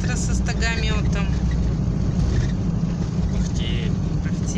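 A tractor with a hay stacker rumbles steadily outdoors, its continuous engine drone mixed with heavy wind buffeting, while a voice talks briefly at the start.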